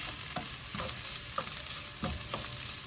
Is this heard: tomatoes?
yes